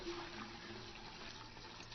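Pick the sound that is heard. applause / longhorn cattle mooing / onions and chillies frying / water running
water running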